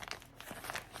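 Crinkling and rustling of a light, waterproof Dyneema Space Bear bag printed with poop emojis, handled close up in brief, quiet bursts.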